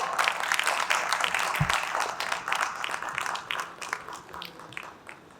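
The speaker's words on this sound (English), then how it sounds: "Can we have a big round of applause?" A big round of applause from a conference hall audience, steady dense clapping that starts loud and gradually thins and fades over several seconds.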